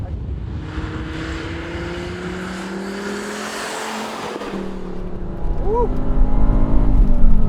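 A five-cylinder car drives along a road, its engine droning steadily from inside the cabin, then revving up louder near the end; a voice briefly cheers over it.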